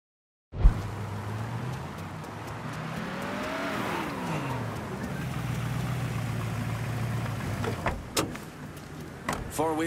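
Car engine in the Mafia III: Definitive Edition video game starts with a thump, then idles steadily while warming up, rising and falling in pitch briefly, with clicks and a door-like clunk near the end.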